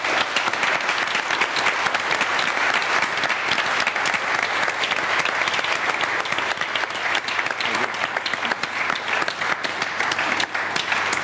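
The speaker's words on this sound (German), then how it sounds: "Das gibt doch erstmal jetzt einen ordentlichen Applaus" Steady, loud applause from a live audience for a candidate at a German televised contest finale, continuous clapping for about eleven seconds with no voices over it.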